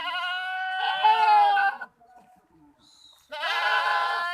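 Goats bleat at a goat market selling Beetal and Nagri breeds, two loud, close, wavering calls separated by a short quiet gap with faint background noise.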